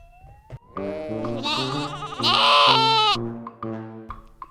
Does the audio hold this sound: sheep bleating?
yes